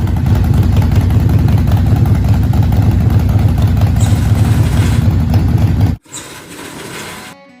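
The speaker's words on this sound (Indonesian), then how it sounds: "Harley Davidson sangat mudah dikenali dengan mesin besar bertipe 45 derajat V-twin" Loud, close rumble of a Harley-Davidson 45-degree V-twin motorcycle engine, a throbbing uneven pulse that runs steadily, then cuts off sharply and comes back quieter for the last moments.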